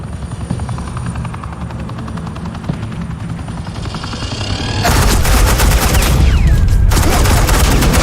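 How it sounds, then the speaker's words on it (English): Helicopter rotor drone in a Batman Telltale game scene, joined midway by loud sustained rapid gunfire bursts of suppressing fire that continue steadily to the end. "Suppressing fire."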